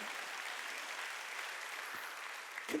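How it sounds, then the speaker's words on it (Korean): Brief applause from a church congregation during a Sunday worship service, a steady wash of clapping at moderate-to-low level lasting a few seconds. "믿으면 박수"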